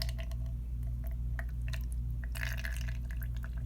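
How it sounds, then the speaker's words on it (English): Berry ink blend is poured through a strainer, with liquid trickling and dripping close by in uneven spatters and a brief fuller splash partway through, over a low steady hum. "Now I'm going to pour this blend through one more strainer"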